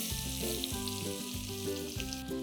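Finely chopped onions go into oil with roasted whole spices for dum handi paneer, frying with a steady close sizzle, while a tonal background tune with a repeating rhythmic pattern plays throughout.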